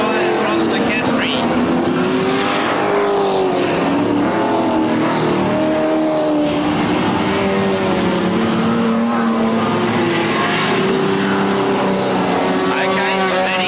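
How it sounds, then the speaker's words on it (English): Race cars in the 1979 Super Sedan 150 Lap Grand Prix at a Newcastle circuit roar past with loud, continuous engine drone and rising and falling pitch, under steady commentary talk. "Bazzuti goes by again, leading this car race"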